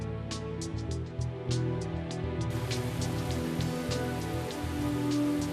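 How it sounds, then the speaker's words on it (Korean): Rain falls at night on a dam construction site, a dense continuous patter of drops striking surfaces close by, with sharper individual splashes breaking through the steady wash. "새벽이 되고 비가 내리기 시작했다."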